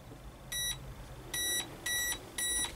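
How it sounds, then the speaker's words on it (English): Four short electronic beeps from an RC speed controller, confirming brushless motor setup, sound in an uneven sequence, clear and close, over a faint background hum. "that beep is showing me now in orange that it's set up for brushless"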